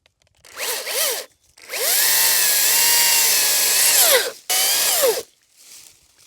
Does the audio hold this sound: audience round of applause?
no